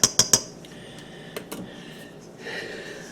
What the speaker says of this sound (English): We'll just give this a quick sift or whisk or stir or whatever you want to call it.